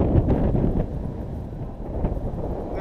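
Strong outdoor wind buffeting the microphone, a continuous low rumbling roar with gusty swells throughout, loud and close, no talking.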